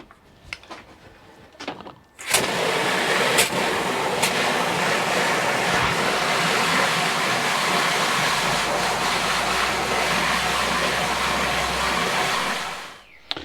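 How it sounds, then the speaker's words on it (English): Steady broadband rush of water pouring from a hose pipe into an Autopot four-pot system reservoir tank, starting abruptly after a brief quiet moment and running loud and continuous before cutting off near the end. "get the hose pipe up and start filling the system"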